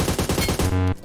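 Rapid automatic gunfire in the PUBG video game, about six quick shots in a tight burst followed by a brief mechanical tone, loud and close with no talk over it.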